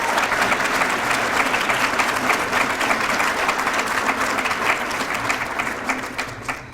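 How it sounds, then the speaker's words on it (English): Sustained audience applause at a university leadership awards ceremony honoring faculty and staff, a dense, steady wash of clapping from a large crowd that holds loud throughout and tapers slightly at the end. "Let's give our faculty and staff recipients one more round of applause for their fine work"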